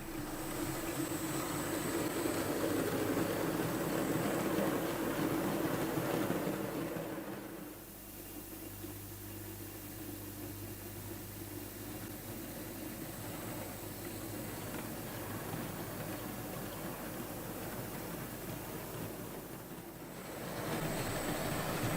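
A Bachmann model locomotive of a Midland Railway 1532 class design, fitted with a coreless motor, runs along model track with a steady low whirr and rail rumble, easing briefly around the middle before picking up again.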